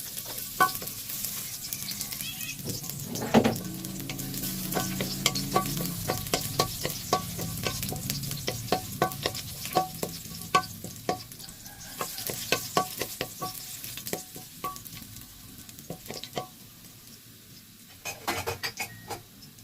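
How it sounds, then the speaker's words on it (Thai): Garlic sizzles and fries in a hot wok for a Thai stir-fried glass noodle dish with minced pork and mixed vegetables, with steady crackling and repeated scraping and clinking stirs close up, fading toward the end. "ตั้งกระทะร้อน ใส่กระเทียมลงไปเลยค่ะ"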